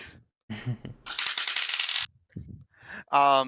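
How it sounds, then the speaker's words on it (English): Dice clatter and roll across a tabletop during a Dungeons & Dragons game, a few close rattling bursts with brief speech between them. "Whoever's rolling their dice, can you cool it?"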